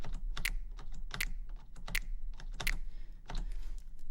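A thick stack of layered, recorded finger snaps hits in a steady rhythm of roughly two per second, sounding like a crowd snapping together over a low steady hum, with no voices.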